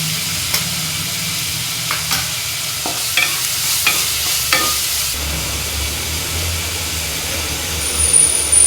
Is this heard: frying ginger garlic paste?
yes